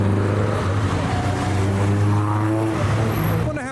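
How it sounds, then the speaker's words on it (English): A Dakar Yellow BMW M3 at a car meet revs its engine, a loud, close, sustained throaty drone with rising and falling pitch that eases off at the end, with voices faintly mixed in. "Dakar Yellow M3 revving"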